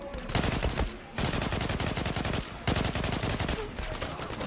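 Sustained automatic gunfire rattles in a shooter video game, loud and continuous with brief gaps between long bursts, alone without talk.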